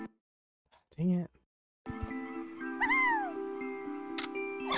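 A cat gives a short meow near the start, followed by a longer rising-and-falling meow over a steady electronic game soundtrack.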